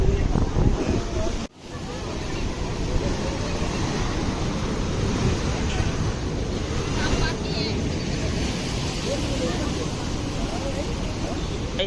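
Sea waves surge at Gomti Ghat in Dwarka in a continuous, heavy roar while wind buffets the microphone and voices sound faintly underneath.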